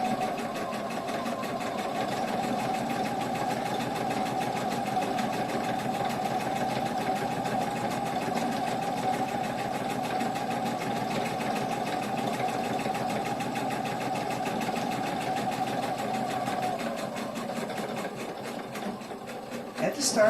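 A sewing machine runs continuously, stitching a shoulder bag with brightly colored thread, holding a steady mechanical hum for nearly the whole stretch before slowing briefly near the end.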